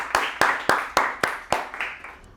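A group in a training session claps in a brisk unison rhythm, roughly eight crisp, close claps that taper off at the end, with no voices over them.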